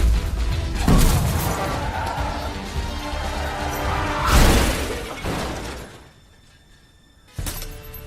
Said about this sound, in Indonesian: Dokter itu melemparkan 2 botol penawar keluar, namun sayangnya salah satu botol tersebut pun pecah.